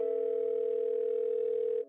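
A phone rings steadily while a call is being placed, one unbroken electronic tone that holds evenly for nearly two seconds and then cuts off, heard alone.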